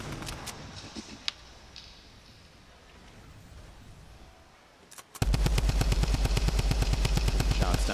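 Gunfire in the battle royale game Fortnite during a Summer Skirmish match: a few scattered shots early, a quiet stretch, then a loud, rapid, sustained burst of repeated shots dominating the last three seconds.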